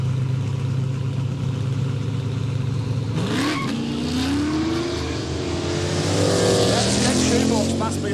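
Drag racing cars at a no-prep street event, a Chev shoebox against a Commodore, roar loudly as engines rev and climb through gears, with tyre noise and a commentator talking over the sustained, close engine howl.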